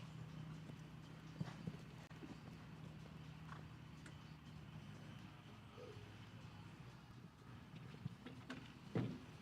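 Horse hooves during a 1.50m FEI 5* show jumping round, a steady muffled clip-clop running through the whole stretch with a sharper knock near the end, heard from a distance under arena ambience.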